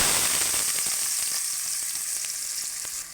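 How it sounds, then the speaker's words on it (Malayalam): Onion just added to hot coconut oil with popped mustard seeds in a pan gives off a loud, dense hiss that eases slightly over a few seconds, close up, with a faint scrape of stirring and no voices. "കടുക് പൊട്ടിക്കഴിഞ്ഞു ഇനി നമ്മൾ സവാള ഇടുകയാണ്"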